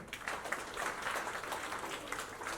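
An audience at a book launch ceremony claps in a continuous burst of applause, fairly faint and distant, with no talking over it.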